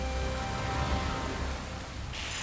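Heavy rain pours down in a dense, continuous hiss of drops striking a surface, steady and close throughout with no voices.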